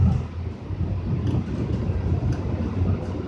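Interior ride aboard a Calgary CTrain Siemens SD160 light rail car, number 2247, on the Red Line: a steady low rumble and hum of the moving train with faint rhythmic clicks from the track, no voices.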